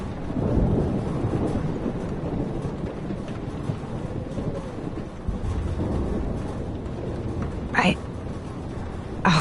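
A thunderstorm with heavy rain in the Life Is Strange video game, a dense, loud wash of rain and wind with deep rumbling and a sharp crack near the end.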